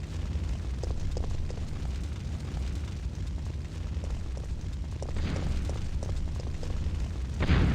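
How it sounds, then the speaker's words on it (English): In Resident Evil 3: Nemesis (1999), a gas station blows up: a deep, sustained rumbling roar that swells with sharp bursts near the end, loud and filling the whole stretch. "If it's Carlos at the gas station, the explosion just happens the same way"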